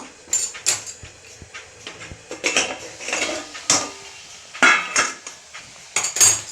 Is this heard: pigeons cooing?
no